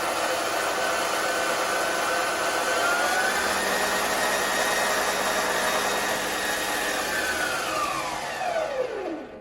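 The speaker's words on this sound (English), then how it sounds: "And you can see how quiet this motor is." The motor of a mini metal lathe running steadily with a smooth, even whine, close and continuous, then winding down in pitch as it slows toward a stop at the end.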